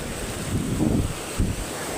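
Sea waves wash up a beach in a low, rushing surge that swells twice, mixed with steady wind noise on the microphone, fairly close, with no talking.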